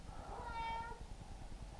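A cat named in passing gives one clear, drawn-out meow close by, rising and falling over about half a second, set against a low steady room hum with no talk.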